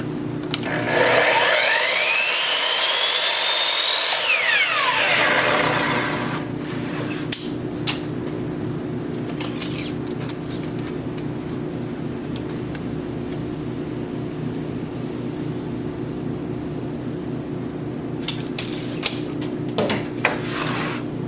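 A power saw whines loudly as it cuts wooden drawer side pieces, runs a few seconds and then winds down, and is followed by a low hum and scattered clicks and knocks.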